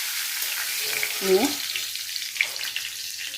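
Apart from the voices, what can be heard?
cumin, dry red chilli and bay leaf frying in oil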